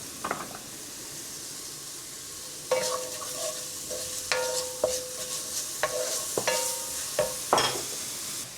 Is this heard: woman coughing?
no